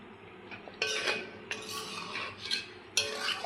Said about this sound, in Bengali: ভালো করে মিলিয়ে নেব।